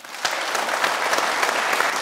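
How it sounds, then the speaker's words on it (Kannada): Loud, sustained applause fills the room at a televised quiz show, a dense wash of clapping hands that swells sharply early on and holds steady throughout. "ಜೋರಾಗಿ ಚಪ್ಪಾಳೆ"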